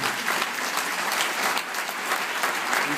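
Audience at an autism conference applauding after a talk, a dense, steady clapping of many hands filling the room, loud and continuous for a few seconds with no voices over it.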